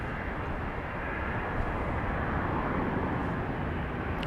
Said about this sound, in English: Flight 940 coming in from Denver, Colorado.